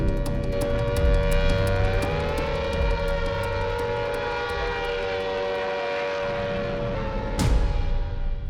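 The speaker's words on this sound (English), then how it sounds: "a warning siren." An air raid warning siren over World War II Chongqing wails in long, sustained tones that slowly bend in pitch, loud and continuous over a dense rumbling background, with a sharp burst near the end.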